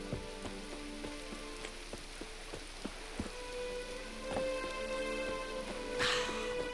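Steady rainfall in The Witcher 3 patters as a soft, continuous hiss with scattered sharper drops, faint and even throughout, with no talking.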